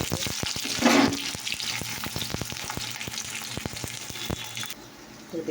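Onion sizzles in hot oil in a home kitchen, a steady crackling hiss with scattered sharp pops and a brief louder surge near the start, ending in a short quieter stretch.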